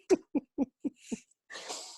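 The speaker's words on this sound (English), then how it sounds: "Don't worry, it's not a dry cough." A short run of about five dry coughs in quick succession, close and clear, followed by a breathy exhale at the end.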